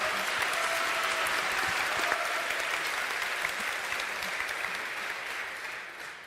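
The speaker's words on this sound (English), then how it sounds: "So please give the final applause and welcome." Large audience at Warsaw University applauding steadily to welcome speakers, a dense sustained wash of clapping that fades slightly toward the end.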